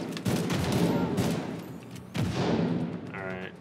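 Rifle fire in The Division 2 during a Warlords of New York firefight, two loud bursts of rapid shots with a short gap between them, while voices talk faintly underneath.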